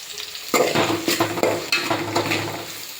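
Onions sizzle in a pot over a medium flame while a spoon stirs them, with a steady frying hiss and sharp scraping knocks against the pot's metal sides.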